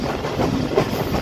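A TezGam Express train runs on rails near Lahore, giving a steady loud rumble with rhythmic clickety-clack from the wheels throughout, close and continuous, with no voices.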